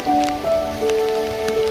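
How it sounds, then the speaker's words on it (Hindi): Heavy rain falls on a Pakistani village with standing water, a constant close hiss under steady tonal whines that shift pitch. "बारिश बहुत ज़्यादा हो रही है"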